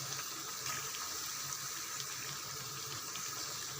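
Masala vada deep-fry in hot oil, giving a steady, close hiss of bubbling and crackling that holds at an even level throughout with no talk.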